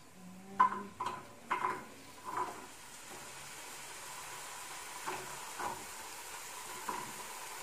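Potatoes hit a hot pan of cooked onion and garlic, giving a few loud bursts of sizzling as they drop in, then a quieter steady frying hiss with occasional soft stirring spikes.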